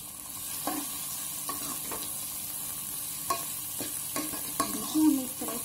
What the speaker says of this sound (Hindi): देखिए, हमें इस तरह से इसको अच्छे से फ्राई करना है